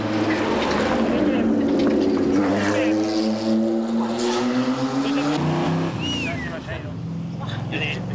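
A classic race car at the Tour Auto 1992 roars past with a loud, sustained engine note whose pitch rises and then falls, and people can be heard talking over it.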